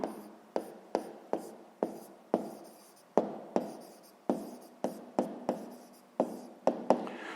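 A pen scratching across paper while a math exercise solution is written out, heard as a quick series of short, close, crisp strokes that each start sharply and fade, with brief pauses between them.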